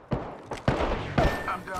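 Enemy gunfire in a video game: several sharp bursts of shots crack out in quick succession, close and fairly loud, with brief gaps between them and a voice speaking over the action.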